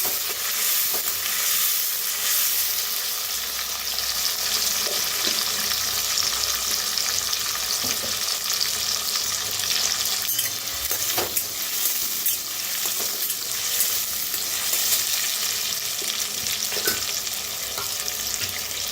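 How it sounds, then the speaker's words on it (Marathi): Two large cut tomatoes roast in a pan with curry leaves, giving a continuous close sizzle and crackle that holds steady throughout, with faint stirring scrapes and no talk. "टमाटो 2 टमाटो मोठे कापून घेतलेले आहेत। भाजून घेऊया।"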